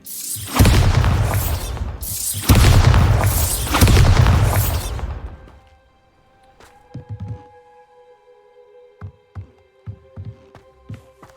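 Two booming spell blasts from the Bombarda blasting spell in Hogwarts Legacy, each loud and rumbling, followed by quieter scattered thuds, debris clatter and footsteps.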